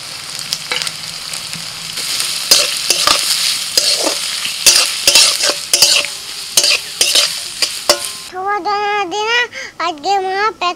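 Chopped onion hits hot mustard oil in a wok with dried red chilli, torn bay leaf and whole cumin, sizzling under sharp repeated scraping strokes of a spatula, followed by a voice talking close by.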